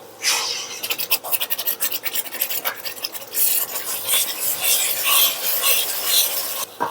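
Tamarind juice going into onion and garlic frying in oil, a dense continuous hiss and sizzle with rapid scraping strokes of a spoon, fairly loud and close throughout.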